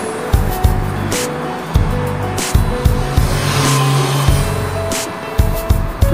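High-revving racing motorbike engine, 500 cc, at an outdoor display at Gardens by the Bay, Singapore: loud, close revs rising and dropping in repeated bursts, with a stuttering, pulsing rhythm and no speech.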